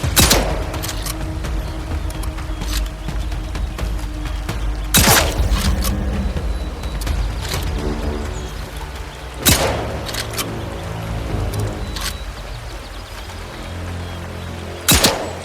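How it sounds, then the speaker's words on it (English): Gunfire in the video game Atomfall on PS5 Pro, down in the sewers. Roughly half a dozen loud, separate shots ring out at uneven intervals over creaking, mechanical ambience, with no talking. "I'm firing!"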